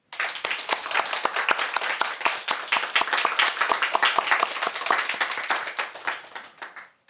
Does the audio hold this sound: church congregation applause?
yes